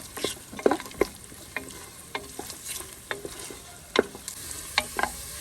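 Onions and cashews fry in a pan, a soft steady sizzle broken by sharp scraping clicks of a spoon stirring at irregular intervals, close and fairly quiet with no voices.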